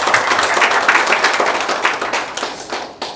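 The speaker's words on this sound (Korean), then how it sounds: "우리 서승호 센터장님께 마무리 사회를 넘기면서 발제와 5분의 토론자 분들께 다시 한번 뜨거운 성원의 박수 부탁드립니다." Forum audience applauding the presenters and panel at the end of a discussion on regional innovation, dense steady clapping from a room full of people, loud and close.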